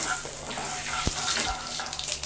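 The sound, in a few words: mustard seeds spluttering in a pan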